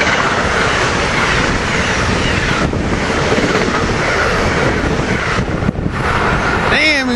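An Amtrak train roars past at close range, loud and continuous with heavy rumble and wind buffeting for the whole stretch, ending in a high screech of wheels.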